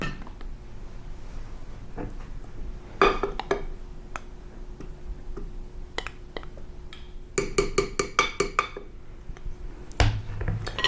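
A spoon clinks against a bowl while cacao powder is stirred into an avocado and almond butter chocolate pie filling: scattered single clinks, then a quick run of close, bright clinks near the end, with no talking.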